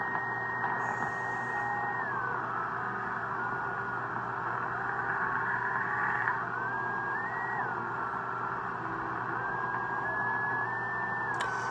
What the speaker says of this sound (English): all you're going to hear is a Morse code doing this